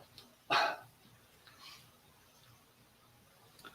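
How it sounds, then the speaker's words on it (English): A small dog gives one sharp, close bark, then a softer yip a second later, with faint scurrying and quiet room tone between. "That's my little dog. He runs up and down."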